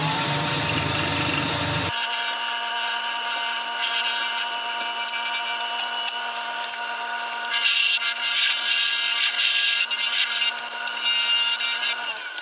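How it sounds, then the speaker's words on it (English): A wooden piece turning on a woodturning lathe is sanded, giving a steady, continuous abrasive rub over the motor's hum that grows slightly louder and harsher partway through. "then we can start sanding"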